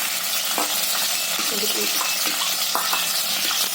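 Ghee being stirred in a pan before carrot halwa, a steady soft sizzle with a few light scraping and clinking touches of a spoon against the metal, close and continuous.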